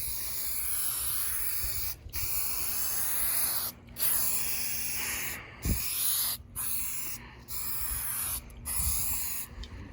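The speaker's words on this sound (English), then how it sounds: "Okay, that half is sprayed." Aerosol adhesive sprayed onto a pickup truck headliner board, a loud close hiss in long bursts broken by brief pauses, with a light knock partway through.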